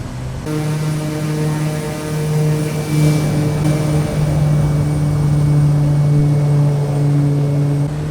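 A Kodiak 100 turboprop engine on its takeoff roll in a flight-simulator game, a loud, steady droning hum with strong tonal harmonics that hold constant and slowly build across the run, with no talk.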